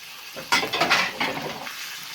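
Frozen seafood tipped into a hot pan for creamy Italian pasta, a sudden burst of sizzling and splashing followed by stirring scrapes and a softer continuing hiss, close up, no voices.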